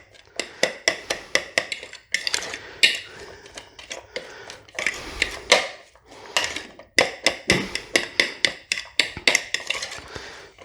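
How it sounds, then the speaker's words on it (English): Onions, celery and pickle being stirred in a bowl with a utensil, giving a steady run of close, sharp clinks and scrapes in quick rhythmic bursts with brief pauses between. "Our onions and celery and pickle. Give that a stir around."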